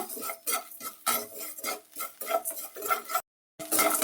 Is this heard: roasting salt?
yes